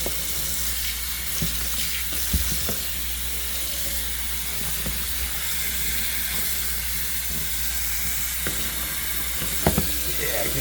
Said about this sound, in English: All right, time to rinse it.